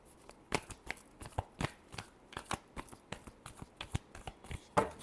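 Tarot cards are shuffled by hand in a quiet room, a rapid irregular series of soft riffling slaps and snaps, close and alone without any voice.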